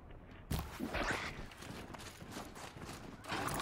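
Horse hooves clip-clopping in the video game Horizon Zero Dawn, a quick run of soft hoofbeats, fairly faint and close, with no talk over them.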